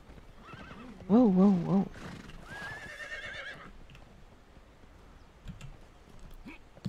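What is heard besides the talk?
horse neighing and hooves in video game Conan Exiles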